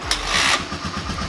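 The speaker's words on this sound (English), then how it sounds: "Fires right up. Good old Honda." The Honda engine of a 2022 Superjet jet ski kicks over and fires up in a short, close, loud burst that settles into a low rumble.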